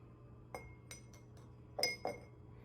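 A pen is set into an empty glass cup, giving several light, bright clinks: separate taps followed by a closer pair of rings over a quiet background hum.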